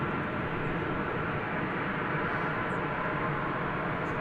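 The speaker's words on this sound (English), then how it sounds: "That looks like American Flight" American Airlines flight 1772, an Airbus A321 at DFW Airport, produces a constant faint jet rumble and hiss at a distance, unbroken and even throughout.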